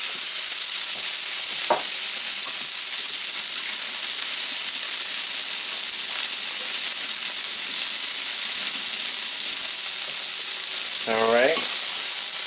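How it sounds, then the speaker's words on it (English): Broccoli and carrot mixture sauteing for chicken and rice soup, a loud continuous hiss of frying throughout, with a brief spoken word and a squeaky scrape near the end. "I'm just going to saute. This is our broccoli and carrot mixture that we cut up earlier"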